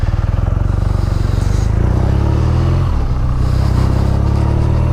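A 2019 BMW R nineT Option 719 motorcycle is ridden, its engine thrumming loud and close with a pulsing low rumble, clatter and wind roar, pitch dipping briefly midway before building again.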